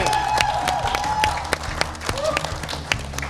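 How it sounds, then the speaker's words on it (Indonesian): An audience at a televised small-business content challenge show claps with scattered sharp individual claps and some cheering. Voices talk over the clapping throughout. "Boleh kita berikan tepuk tangan sekali lagi"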